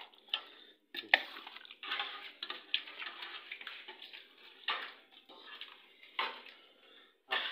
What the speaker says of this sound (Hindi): ये बाकी हमारे पास फिश रहेगी, इसको मिक्स कर लेते हैं।